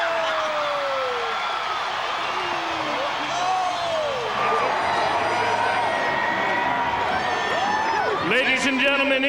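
A dense stadium crowd roars and cheers continuously at a Baltimore Ravens Super Bowl celebration, loud and sustained with whoops and shouts rising near the end over an announcer's amplified voice.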